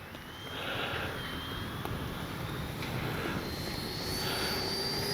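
A Freewing 90mm F-4 Phantom II RC jet with a KM model version 5 afterburner flies past, giving a steady, fairly loud turbine roar and hiss, with a faint rising whine, that holds throughout with no talking.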